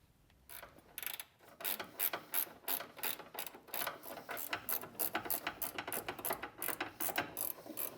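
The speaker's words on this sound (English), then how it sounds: "I did just put a wrench on them, and they loosened right up a little bit, so I'm going to keep taking them off." A hand wrench ratchets bolts loose on a shop truck during a bumper install, giving a steady run of rapid metallic clicks in quick bursts that go on throughout, close and clear, with no talk.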